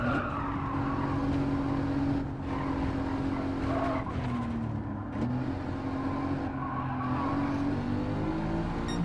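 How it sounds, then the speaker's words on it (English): A Mercedes-AMG GT sports car engine growls steadily with tires squealing, sustained and loud throughout, with a brief dip in the roar partway through. "AMG engines have a very unique sound."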